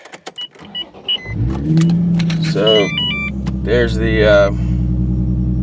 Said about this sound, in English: Starting the car up here.